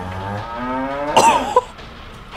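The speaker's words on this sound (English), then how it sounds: "Yo, look at the cows." A cow in a farm simulator video game gives a single close, drawn-out low moo. A brief rough vocal sound follows it, with faint background noise underneath.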